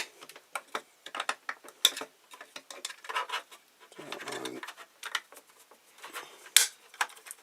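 A plastic lid being pressed and clipped onto an OctoPrint two-way light relay box, with close, scattered plastic clicks and handling rattles, then one sharp snap near the end.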